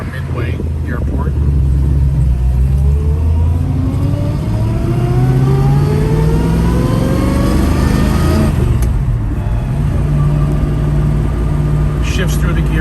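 A 1966 Ford Mustang engine revs up and climbs through several gears, each rising pitch dropping back as it shifts, loud and close, with brief speech.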